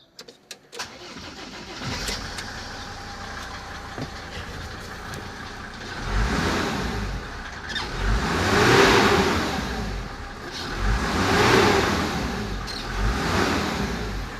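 A car engine cranks and catches after a few seconds, settles to a rough idle, then revs up and down in two or three swelling surges, heard close with no talking.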